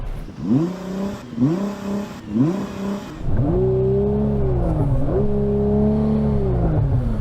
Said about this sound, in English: Yanni, can you rev up your Nissan, please?